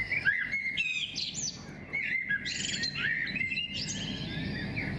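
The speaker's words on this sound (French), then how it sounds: "Le chant des oiseaux" Small birds chirping and twittering in bright, overlapping phrases, a busy song continuing throughout over a soft outdoor background hum, with no voices.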